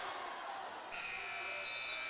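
Electronic end-of-quarter buzzer at a boys high school basketball game, Wichita Northwest against Kapaun Mt. Carmel, kicking in partway through as a steady sustained tone over gym crowd noise.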